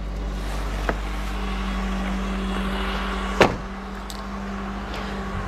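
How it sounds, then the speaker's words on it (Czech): A van's engine idles at raised revs to drive the hydraulics of a lift, a steady loud hum with a couple of brief knocks and no talk. "Teď už jste mohli slyšet zvýšení otáček, což je potřeba kvůli té hydraulice, aby fungovala jak má."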